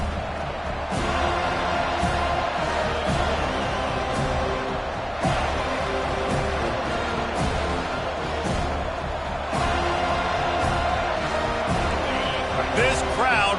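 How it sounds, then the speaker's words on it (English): A big stadium crowd roars steadily at a college football kickoff, with Florida State kicking off to the visitors, the broad wall of noise filling the air close and loud with rhythmic thumps and swells throughout. "This crowd bringing an ear-splitting welcome to their visitors"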